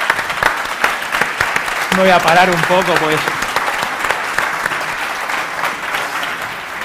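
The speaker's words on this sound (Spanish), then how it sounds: "un aplauso" Applause from the audience at a sustainable finance panel, a steady patter of clapping with a voice speaking over it partway through.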